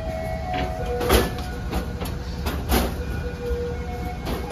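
An economy-class Kahuripan passenger train pulls away from a station, with rumbling wheels, clanks and periodic knocks of the carriages rolling on the track, moderately loud and close, with no talking.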